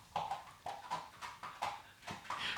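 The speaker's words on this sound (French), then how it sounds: "Ce n'est pas un cheval, c'est Pharaon qui griffe le tapis." A cat scratching at a carpet indoors, making a soft rhythmic scuffing like a horse-drawn carriage's clip-clop, about eight evenly spaced strokes, quiet and alone.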